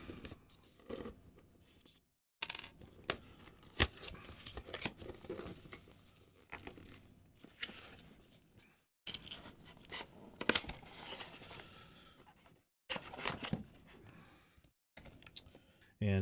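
A blade slicing through packing tape on the bottom of a GoPro Max Lens Mod box, heard as close scratchy cutting and crinkling bursts separated by brief silent gaps.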